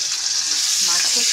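Fish oil frying in a wok, a loud continuous hissing sizzle across the short moment, with no other sounds.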